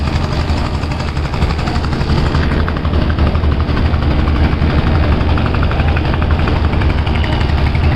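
Diesel engine of the passenger launch Karnaphuli 12 running hard in reverse gear as it backs out from the ghat: a loud, steady, broadband rumbling drone with rapid throbbing, continuous throughout, with no talking.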